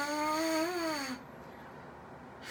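A single buzzed tone on a brass mouthpiece, held for about a second with a slight wavering pitch, then cutting off abruptly into quiet room noise.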